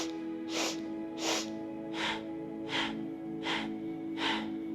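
Short rhythmic breathing sniffs, six or seven quick nasal in-and-out bursts at a steady pace about every two-thirds of a second over a constant background hum, close and clear.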